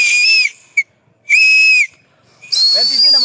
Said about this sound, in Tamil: இதை எடுத்து கைக்கு நடுவில் வச்சுக்கிட்டு தான் ஆடு மாடை வெட்டுறது நல்லா விசில் பயங்கரமாக சவுண்டாக